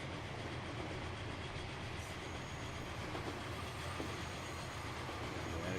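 A train running in the Transport Fever video game during a race, likely the American train. It makes a continuous, loud rumbling roar of wheels on rails throughout, with no talk.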